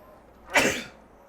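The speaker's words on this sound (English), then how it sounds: "Sorry, I had to sneeze there." A single loud, sharp sneeze bursts out close by, then fades quickly into quiet.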